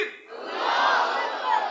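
A crowd at a religious gathering roars back a chant of Allahu Akbar, a loud, sustained wash of massed voices that swells and holds for under two seconds.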